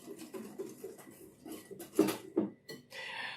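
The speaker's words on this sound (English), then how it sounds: "So now just going to mix this all up, so everything's kind of evenly distributed." Chocolate chip cookie dough for double chocolate cookies being mixed by hand in a bowl, with soft scraping and a few sharper clinks of utensil against the bowl, close and fairly quiet.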